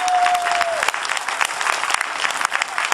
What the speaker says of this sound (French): Vraiment, vous pouvez applaudir.